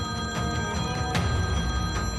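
A mobile phone ringing in a living room gives a steady, trilling tone that pulses in quick repeats, close and fairly loud, with no voices.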